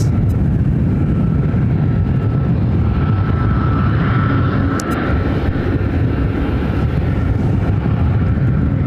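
A Southwest Airlines jet on approach to the 26 runways at Ontario, California, produces a loud, close, continuous engine roar with heavy low rumble throughout.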